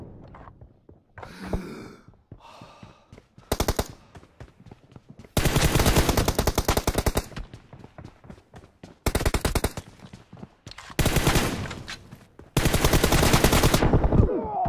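Bursts of automatic gunfire from the PUBG video game, several loud sustained volleys separated by short gaps with quieter single shots between them, and no talking over it.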